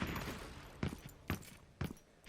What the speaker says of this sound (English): Both trying to get some shots off here, but none of them hit each other